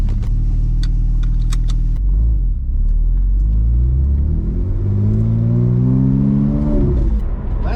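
A rebuilt, road-legal Porsche 997 Turbo race car pulls away, engine rumbling low and close, then climbing through a long rising rev before easing off, heard from inside with no talk.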